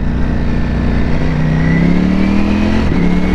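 A Ducati Panigale V4S motorcycle engine revs steadily on a London city ride, its pitch climbing, then a sharp quick-shift break near the end drops the revs before the engine picks up again. Loud, close and continuous, with no talk.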